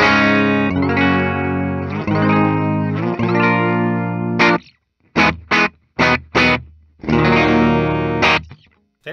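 A 1976 Gibson Les Paul Custom played through its bridge Tim Shaw pickup gives a mellow, distorted hard-rock tone: sustained chords, then a run of short choppy stabs with silences between, then held chords again, loud and alone.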